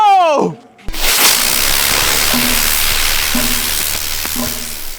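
A loud, steady fizzing hiss of a butterfly firecracker starts abruptly after a brief voice, with a few crackles and a faint recurring whistle-like tone mixed in.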